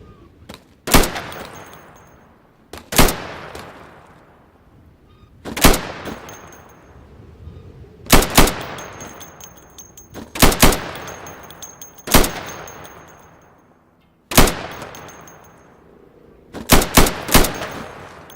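Sidearm pistol fire at pop-up targets on an Insurgency video game range, heard as about a dozen sharp, loud shots. They come singly and in quick pairs or triples, each with a short ringing tail, and no one talks.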